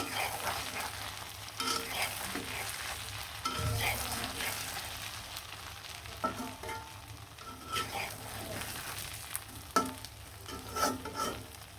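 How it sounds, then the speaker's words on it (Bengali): Hilsa fish pieces and roe fry in oil with red chilli, a continuous sizzle broken by intermittent scraping and clinking of a spatula, close and moderately loud. "আমি মাছগুলা ডিমগুলা ভেজে নিলাম"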